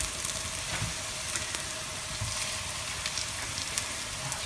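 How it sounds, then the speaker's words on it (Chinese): Meat-stuffed gluten pieces frying in a pan, a steady dense hiss of hot oil with scattered small pops and crackles, close and continuous, no talking. "让它稍微下去煎一煎"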